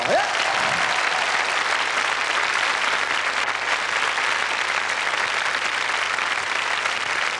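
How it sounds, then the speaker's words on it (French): A TV studio audience claps loudly for Radio Nostalgie on a French variety show, a thick, even wall of applause holding steady throughout with no voices on top. "nous sommes en compagnie de Radio Nostalgie, qu'on applaudit très fort"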